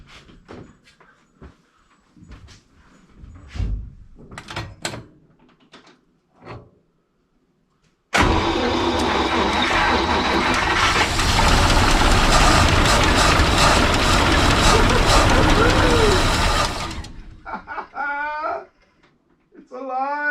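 A 1941 Cadillac barn find cranks over and starts after long storage, then runs with a loud, steady, close engine roar for roughly nine seconds. Before it starts there are scattered clunks and a voice, and after it there are faint chirpy sounds.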